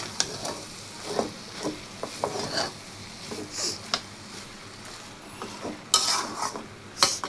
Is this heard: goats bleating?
no